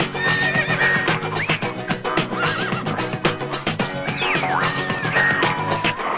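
Horses neigh and whinny repeatedly over busy game music and clip-clopping hooves in the video game Lego Island 2, the calls loud and close, with several rising and falling cries across the stretch.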